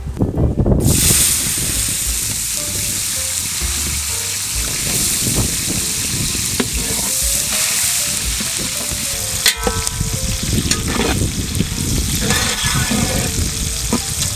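Chopped onion fries in a pan with a loud, steady hiss and crackle, broken by occasional stirring scrapes, heard close up.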